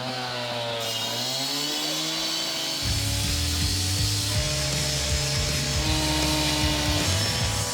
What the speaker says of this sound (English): You guys going to fire that saw up here in a little bit, aren't you?